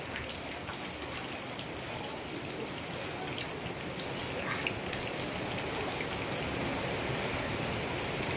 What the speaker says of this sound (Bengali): আর আজকাল প্রচণ্ড বৃষ্টি